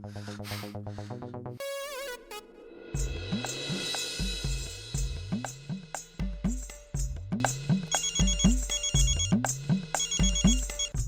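A phone ringtone plays a bright, repeating electronic melody, loud and continuous, with a short stuttering intro before the tune settles into its looping pattern.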